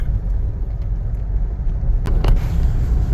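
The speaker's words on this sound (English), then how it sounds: "There is a considerable amount of traffic." Road traffic near Damak, Nepal: a close, rumbling vehicle passes with heavy low engine noise and a couple of sharp clanks near the end.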